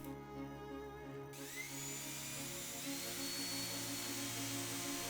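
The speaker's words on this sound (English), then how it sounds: "I decided to just screw it together, countersinking the holes so I can fill them in later" Power drill driving screws and countersinking holes in a wooden table top, a thin whining motor tone rising in pitch as it spins up, faint and continuous with no talking.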